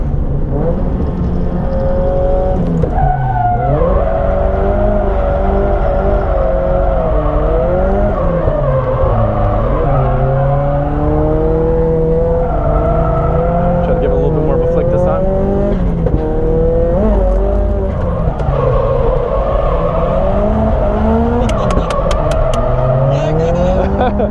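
A Yashio Factory S15 drifts at Nikko, its engine revving hard and wailing up and down in long swooping sweeps with tire squeal, loud and continuous throughout.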